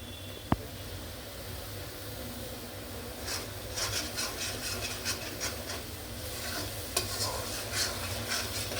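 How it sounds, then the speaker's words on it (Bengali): Tomato paste frying with bay leaves in a pan for chicken patiala, a steady sizzle with repeated scraping stirs growing busier toward the end, close and moderately loud with no talk. "এখন টমেটোর পেস্টটা দিয়ে দিব।"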